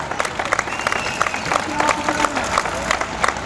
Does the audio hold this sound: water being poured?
no